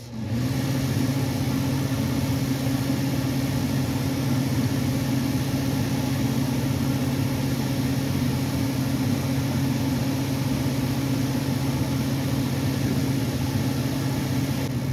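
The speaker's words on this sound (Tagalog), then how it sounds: "I-on natin yung exhaust" A kitchen exhaust fan runs with a constant loud mechanical hum and whoosh, unbroken throughout, with a steady low drone underneath, close by.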